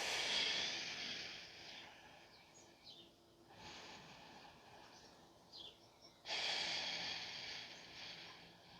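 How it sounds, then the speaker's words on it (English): Slow, soft breaths during a yoga pose, long airy inhales and exhales in a quiet room, faint and close with no talking. "And breathe."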